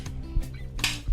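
Shrimp shifted around a pan with metal tongs while cooking in butter, a few light clinks and scrapes of metal against the pan spaced unevenly over a soft background hum.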